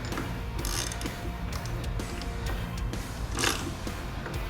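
A hand ratchet tightens motorcycle foot peg bolts up close, a steady run of rapid clicking pawl ticks with a few sharper bursts, fairly quiet with no talk.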